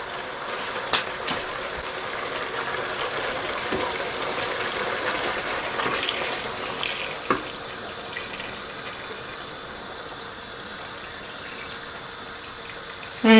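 Hot water poured from a kettle into a cooking pot of goat broth, a steady close rushing splash that holds constant for many seconds before tapering slightly near the end.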